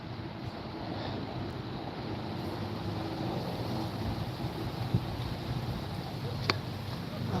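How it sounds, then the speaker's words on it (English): Steady wind rushing outdoors by the water during a fishing outing, a constant broadband roar buffeting the microphone with a couple of faint knocks, and no talk. "the wind is moving everything pretty good"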